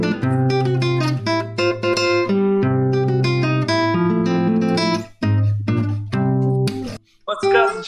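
A guitar plays the Super Mario tune from the Dendy game, a quick, bright melody of plucked notes running for several seconds, loud and close, with a short break near the end.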